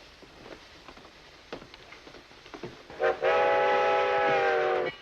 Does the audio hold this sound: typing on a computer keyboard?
no